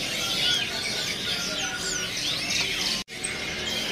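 Young serindit (blue-crowned hanging parrots) at a bird kiosk chirp in rapid, high, overlapping twitters, fairly faint against steady background hiss, with a brief dropout near the end.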